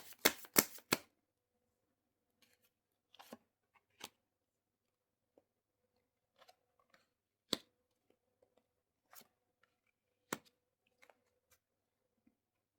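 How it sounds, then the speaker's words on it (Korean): Tarot cards being shuffled and laid out on a table, a quick burst of flicking snaps at the start, then sparse soft taps and slides as single cards are placed, quiet and close. "보조 카드도 같이 열어보도록 하겠습니다."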